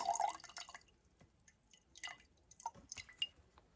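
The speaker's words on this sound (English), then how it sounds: "just pour the excess water off into a jar or something like this" Excess water poured off a felt pad of microgreen seeds into a jar: a few faint, close splashes and drips trickling in irregular bursts, quiet and without talk.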